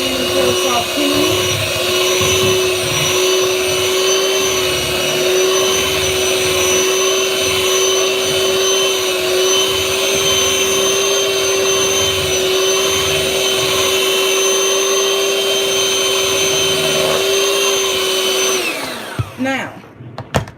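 An electric mixer beats cream cheese filling for a cherry pie, giving a steady, close, high whirring whine that runs unbroken for a long stretch before cutting off near the end.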